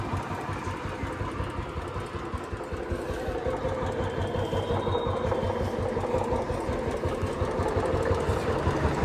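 A freshly assembled Royal Enfield UCE engine runs outside a workshop. It holds a steady, rapid mechanical thump at idle, close and loud, with no talk.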